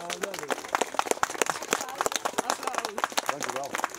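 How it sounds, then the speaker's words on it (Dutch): Scattered close applause at a birdhouse unveiling at a primary school in Geleen, irregular individual claps with people talking over them. "geef jullie dan ook een applaus voor fans"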